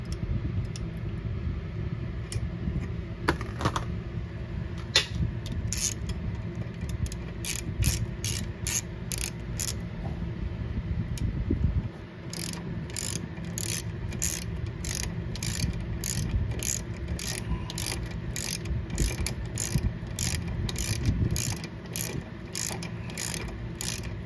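Ratchet wrench tightening a trailing arm stud on a Triumph TR6, heard as rapid repeated clicking strokes in bursts, close and clear over a low background rumble, no talk.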